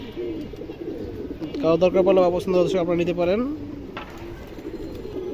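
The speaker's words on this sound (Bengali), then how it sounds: "দর্শক এখানে একটা লাল মুসলদম কবুতর আছে" A red Musoldom running pigeon gives a throaty, warbling coo lasting about two seconds, close by and partly under someone talking.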